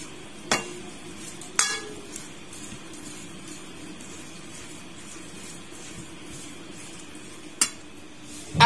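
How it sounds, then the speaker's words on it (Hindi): Aloo pulao ingredients stirred in a cooking pot, with a few sharp clinks of a spoon against metal over a low, steady background murmur, quiet apart from the knocks. "अब अच्छे से मिक्स करेंगे।"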